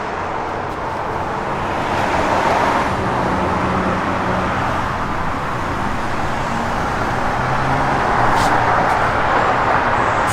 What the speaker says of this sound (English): to appreciate this car, you gotta run it down the road.